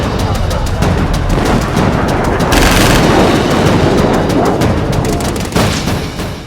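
Dense, rapid volleys of gunfire crack without pause across a mountainous area near Pangong Lake during an India–China border clash, loud and close, with no talk over the shooting.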